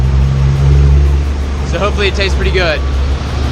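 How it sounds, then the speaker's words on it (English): Street traffic in León, Nicaragua, with a steady, loud low rumble of passing cars running under a person talking close by. "But it's super noisy right now, lots of cars."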